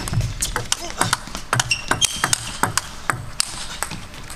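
Table tennis ball struck back and forth in a men's singles match, crisp sharp pings and taps in quick irregular rally rhythm, close and clear over a hum of arena noise and faint commentary.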